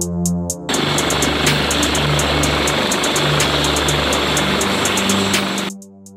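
An MH-139A Grey Wolf, a U.S. Air Force military helicopter, roars loud and steady with dense rotor and turbine noise for about five seconds, then cuts off sharply near the end.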